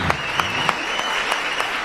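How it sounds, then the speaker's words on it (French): Short burst of audience applause at a live show, a dense patter of clapping with a few sharper individual claps standing out in an even rhythm. "Encore, on va applaudir s'il vous plaît pour Boris."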